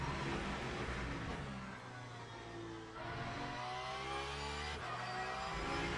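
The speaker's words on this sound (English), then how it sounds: "Hypercar coming up." A hypercar engine from the Le Mans Ultimate racing game at the Circuit of the Americas, rising and shifting through gears as it approaches, layered over a steady GT3 engine drone heard from the cockpit.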